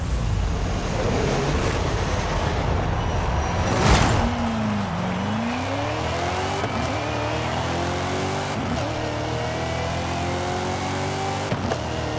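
An all-wheel drive truck on drag compound tires launches and accelerates hard down a quarter-mile drag strip, its engine note climbing through gear changes, heard from a distance with steady wind buffeting the microphone.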